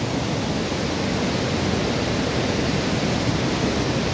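A large river rushing below a bridge on the Langtang trek, a loud, unbroken roar of churning water filling the whole clip with no other sounds.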